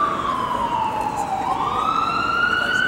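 Ambulance and fire truck sirens wail past, one loud rising-and-falling tone sweeping down and then back up over steady road traffic noise.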